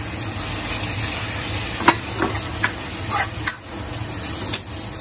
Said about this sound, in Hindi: अब हम इसमें टमाटर डालते हैं